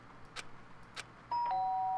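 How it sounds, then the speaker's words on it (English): A doorbell in the video game Danganronpa: Trigger Happy Havoc rings out as a clear electronic chime that sustains to the end, after a few soft clicks in a quiet room. "sharp sound of the doorbell pierced my sleepy haze and pulled me back to the real world"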